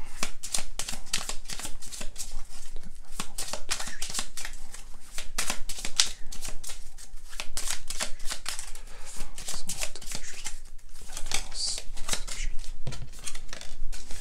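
Tarot cards being shuffled for a cross spread: a steady, loud run of crisp riffling and slapping card sounds close by, continuing without pause throughout.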